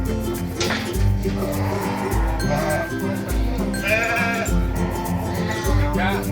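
Sheep bleat at a sheep contest in Pleret, Bantul, with a few wavering cries rising over a busy backdrop of low droning sound and a bustling crowd.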